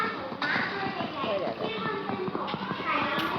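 A horse gallops in the Minecraft video game, rapid clip-clop hoofbeats heard under a child's excited chatter and game sounds.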